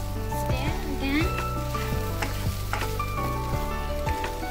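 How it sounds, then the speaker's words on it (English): Potato sabji sizzles steadily in a hot pan while a utensil scrapes and stirs through it in repeated strokes, close and clear with continuous frying hiss underneath. "And now I'm going to give it a stir again."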